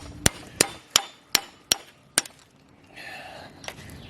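A hammer drives out a sub-frame bushing during a polyurethane bushing swap, six sharp, ringing metallic blows at an even pace, followed by quieter scraping and one last light tap.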